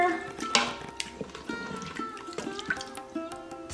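A spoon stirs moong dal and water in an Instant Pot, with scattered clinks and scrapes against the metal insert and soft sloshing, close and fairly quiet, a voice faintly present.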